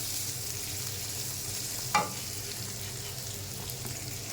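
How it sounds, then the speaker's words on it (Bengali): Shrimp frying with potato and onion in a pan, a steady close sizzle running throughout, with one brief clatter of stirring near the middle and no voices. "চিংড়ি মাছটা এখানে আমি দিয়ে দিচ্ছি। এই আলু পেঁয়াজের সাথে একটু ভেজে নিতে হবে।"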